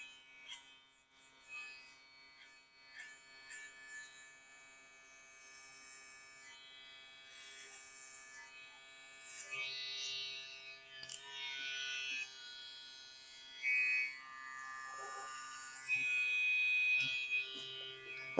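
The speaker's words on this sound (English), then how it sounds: "I will open my clipper now and just make just a bit of a taper here" An electric hair clipper tapering a haircut gives a faint, steady buzzing hum throughout, with small bursts of higher rasping as the blades move through hair, and no talking.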